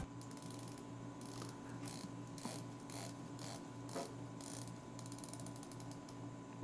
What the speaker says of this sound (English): Let's listen to the bezel action really quickly.